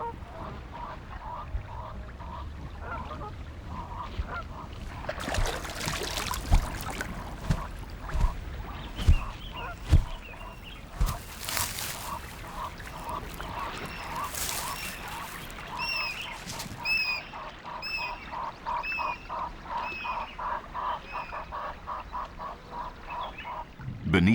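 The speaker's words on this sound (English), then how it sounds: "A large variety of birds have also made their home in the riverine forest which hugs the water's edge" Many birds call in an African riverine forest at the water's edge, with honking, quacking and croaking cries layered into a busy chorus and a rhythmic series of chirps toward the end.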